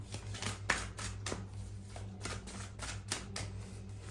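Tarot cards are shuffled in quick, quiet, rhythmic flicks and riffles, close by, over a low steady hum.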